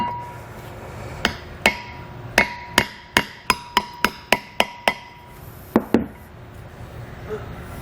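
A hammer driving a bearing seal into a trailer disc brake hub and rotor assembly from a Kodiak kit: about a dozen sharp metallic taps in an accelerating sequence, then two final strikes, loud and close.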